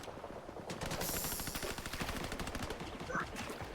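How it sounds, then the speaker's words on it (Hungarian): Gunfire rattles nearby in the video game Fortnite, a dense continuous burst of rapid shots at moderate distance that runs through the whole stretch. "Közben itt lövöldöznek mellettünk."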